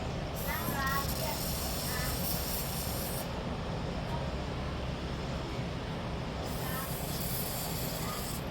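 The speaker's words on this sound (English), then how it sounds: "I'll spray a little WD-40 on it." WD-40 sprayed from an aerosol can onto a new Magnafuel fuel pump seal, a steady close hiss running throughout with breaks in the high sizzle, loud and alone.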